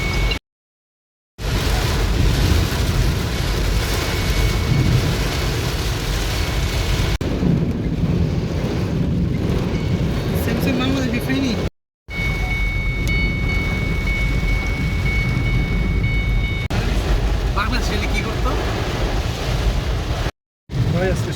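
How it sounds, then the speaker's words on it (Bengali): Heavy rain pours steadily in Jeddah, Saudi Arabia, as a loud, dense wash of drops and runoff, broken by a few brief gaps where the sound cuts out. "আজকে যে বৃষ্টিটা হচ্ছে, দেখুন চরম বৃষ্টি হচ্ছে।"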